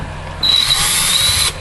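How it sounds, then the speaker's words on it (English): A power drill whirs for about a second while driving Xbox 360 case screws, a close, loud, high-pitched burst starting abruptly and cutting off cleanly, with no talking over it. "Don't drill these screws in too tight"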